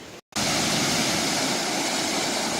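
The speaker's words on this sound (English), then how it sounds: "Ladies and gentlemen, this is your thupthup waterfall." Thup Thup waterfall in Meghalaya, a loud, close, steady roar of rushing water after a brief silent gap at the start, no voices.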